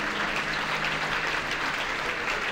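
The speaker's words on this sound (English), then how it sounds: "Why don't we clap our hands to the Lord mightily?" Congregation clapping hands at a church convention service, a dense, loud, continuous wash of many hands with no pauses throughout.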